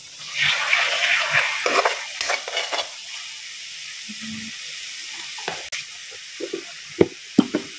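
Eggplant masala fries with ginger garlic paste and onion in a pan, with bursts of sizzling hiss and scraping stirs early on, then quieter frying broken by occasional clinks of a spoon against the pan.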